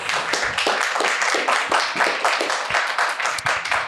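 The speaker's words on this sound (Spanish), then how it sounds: "Un fuerte aplauso para José Bautista!" Clapping from a small group of people at a panel event, close by and fairly loud, with a brisk, uneven rhythm throughout.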